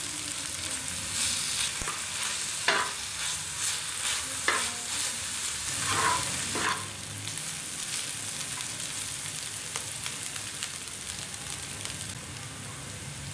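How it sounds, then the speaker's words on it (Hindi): Ginger garlic paste and finely chopped green chilli fry in a pan, a steady sizzle running throughout with several louder bursts of stirring and scraping in the first half, then quieter even frying. "1 टेबलस्पून अदरक लहसुन का पेस्ट और एक बारीक कटी हुई सब्ज मिर्च। इनको हल्का सा फ्राई कर लेंगे।"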